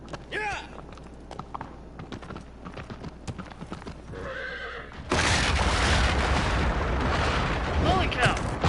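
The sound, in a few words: horse galloping and neighing in video game Shadow of the Colossus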